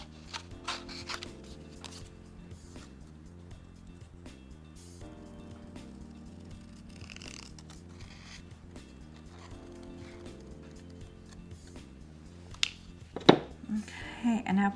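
Scissors snip and trim paper in a crafting session, giving a few quiet, scattered cuts followed by a sharper, louder burst of cutting and handling near the end.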